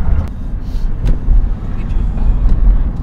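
A large car engine rumbles steadily and close, buffeted by wind noise on the microphone, while a person talks over it.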